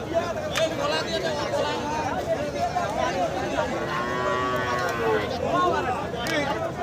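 Cattle at a crowded market for local bulls in Thakurgaon, Bangladesh, moo repeatedly, with drawn-out lowing calls rising over a steady murmur of crowd chatter and people talking nearby.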